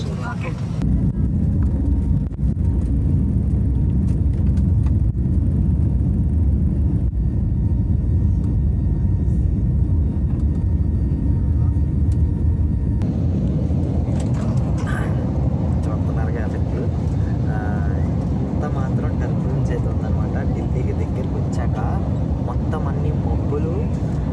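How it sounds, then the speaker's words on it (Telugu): An airplane rumbles from inside the passenger cabin, a steady low engine roar that swells louder and heavier partway through, with people talking over it. "టేక్ ఆఫ్ అవుతున్నాం"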